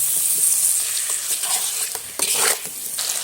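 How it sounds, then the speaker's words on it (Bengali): Potatoes with spices and tomatoes are sautéed in a pan, giving a loud, close sizzle with rhythmic scraping and stirring strokes and occasional utensil clatter, no voices. "আলুটা আমি সুন্দর করে কষিয়ে নিয়েছি"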